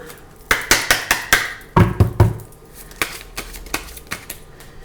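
Oracle cards are shuffled and sorted by hand, giving a run of sharp, close riffling snaps and taps in quick irregular clusters, then softer scattered clicks as they are set down.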